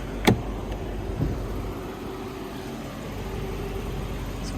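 A BMW 530i idles in roughly 100-degree heat with the air conditioning running, a low, steady engine hum holding even throughout, with a couple of faint brief knocks near the start and no talking.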